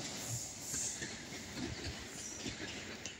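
A CSR local train on the Sarmiento railway approaches Haedo station, with a steady rumble, clattering wheels and faint high squeals, heard from the platform at moderate distance without speech.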